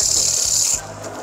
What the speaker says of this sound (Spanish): Ya le estamos ya puliendo, lijándole ya